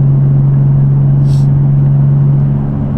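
A single-turbo Nissan 370z with a stock motor on E85 fuel makes a loud, steady engine drone close by, holding a constant hum throughout with no change in pitch.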